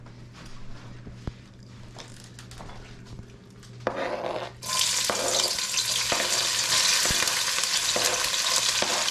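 Okra frying in hot oil in a pan: a soft clatter of stirring first, then a loud, dense, continuous sizzle bursts in halfway and holds steady to the end.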